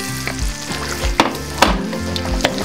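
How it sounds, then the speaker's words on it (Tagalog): Adobo sauce with liver spread simmers and sizzles in a wok, a steady bubbling close up with a few sharp pops and some stirring, and no talk. "Hayaan lang po natin na kumulo itong sauce."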